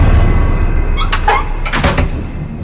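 A door opens nearby with a scraping, squeaky rattle, against a steady low background rumble.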